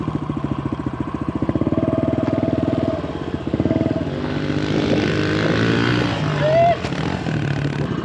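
A stock 110 pit bike rides a dirt track, its small engine buzzing steadily and close, with the throttle pulsing on and off as it goes.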